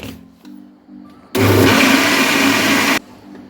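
After a quiet moment, a mixer grinder grinding wheat flour batter roars to life for about two seconds of loud, steady grinding, then cuts off abruptly.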